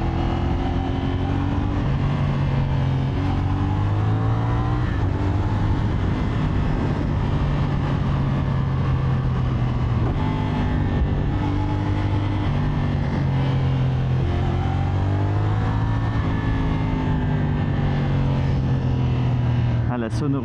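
A CFMOTO SR450 motorcycle rides steadily, its engine and exhaust droning with rising and falling pitch through gear changes, continuous and loud, heard from the rider's position.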